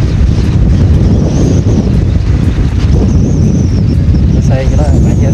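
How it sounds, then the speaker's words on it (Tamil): Strong wind buffets the microphone outdoors near fields on the Tamil Nadu–Kerala border, making a loud, constant low roar with gusts, and a voice talks over it. "காற்றும் பயங்கரமாக இருக்குது."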